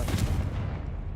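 Confringo spell cast in a wizarding video game, a loud broadband fiery blast that erupts at once and then rumbles and fades over about a second, with no voices.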